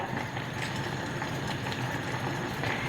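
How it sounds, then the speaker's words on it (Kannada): A pot of water boiling on a stove, a dense, even bubbling rumble that holds steady and close for a few seconds with no voices. "ನೋಡಿ ಇಲ್ಲಿ ಕುದೀತಾ ಇದೆ"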